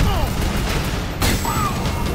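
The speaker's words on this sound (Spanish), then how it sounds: "Vaya más tiros." Gunfire from the shooter video game Fuse sounds in a quick burst with a sharp crack midway, over game effects, while someone talks in Spanish.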